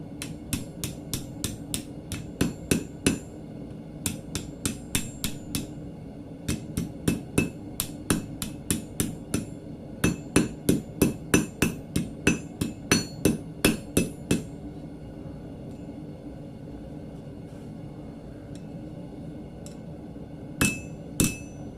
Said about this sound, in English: I'm also going to try to gently use this rounding hammer on it.